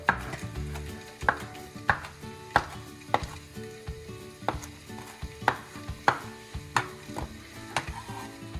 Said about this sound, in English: Give that a quick rough chop.